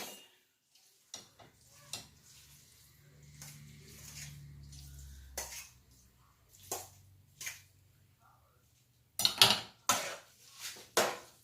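Rice stirred into bell pepper stuffing in a pan, with scattered scraping clinks of a utensil against the pan, a soft squishing stretch in the middle and a burst of louder knocks near the end.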